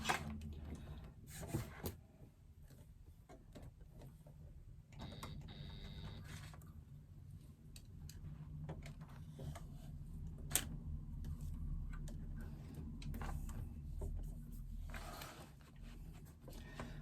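Sewing machine top stitching around the outside edge of fabric at a quarter-inch seam allowance, a steady close mechanical ticking and whirring run that pauses and restarts in bursts, with no talking.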